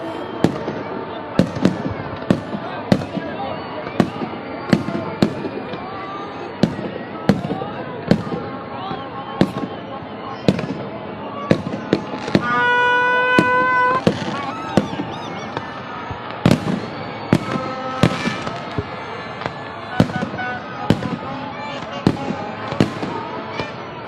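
Fireworks bursting over Minar-e-Pakistan in Lahore during Pakistan's Independence Day celebrations, a steady stream of sharp cracks and booms with a brief whistling rocket, loud and continuous amid crowd noise.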